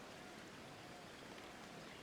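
Steady rain in the tactical video game Jagged Alliance: Flashback, a soft, even hiss of rainfall continuing without pause at low level.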